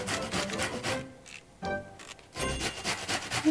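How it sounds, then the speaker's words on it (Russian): A cucumber being rubbed on a fine grater: brisk, rhythmic rasping strokes close to the mic, in bursts separated by short pauses. "Натрем на терке, опять же на мелкой"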